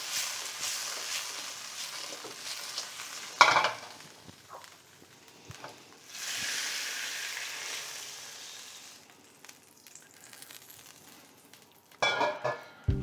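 Sliced cucumber being stirred while frying in a pan with sesame oil, a quiet sizzle with a few scraping and clinking utensil sounds and a sharp tap near the end.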